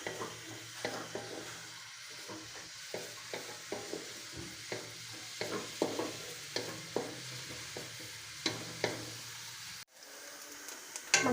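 Onions frying in a pan for macaroni, sizzling steadily while a utensil stirs them in regular scraping strokes roughly every half second, close and fairly loud with no talking, ending in a brief pause.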